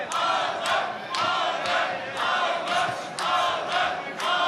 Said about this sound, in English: The crowd trying to get behind him as well